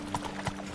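Roach the horse gallops in The Witcher 3 with quick, even hoofbeats, quiet and close, over a soft background hum.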